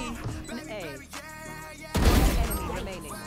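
A sudden burst of gunfire in Valorant erupts after a stretch of quieter game sounds and talk, loud and rapid for about a second.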